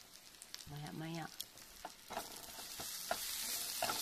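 Egg frying and being stirred in a pan for dinner, a soft sizzle with scraping stirs and a few clicks, fairly faint and close.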